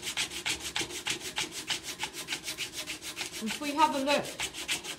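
A wooden moneybox being hand sanded with 80 grit sandpaper, a steady rhythmic scratch of back-and-forth strokes, close and moderately quiet, with someone briefly talking over it near the end.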